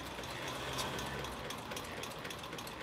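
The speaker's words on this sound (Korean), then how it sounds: "미싱이 자글자글을 돌아간다" An old sewing machine runs quietly in a long-established sewing machine shop, giving off a continuous fine rattling, ticking whir with light mechanical clicks throughout.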